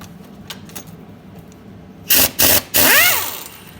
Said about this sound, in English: That bolt's in there so tight.